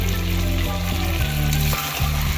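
Chicken kosha, spiced chicken curry, frying hard in oil in a pan, a loud continuous sizzle close up with a few stirring scrapes, no voices.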